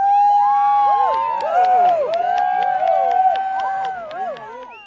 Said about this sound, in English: Everywhere there was cheering and whooping